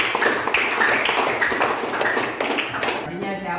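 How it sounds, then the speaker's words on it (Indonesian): A classroom claps for a student named Wahida after her answer in a lesson, a dense round of hand claps under a teacher's talking voice that cuts off near the end. "Tepuk tangan untuk Wahida."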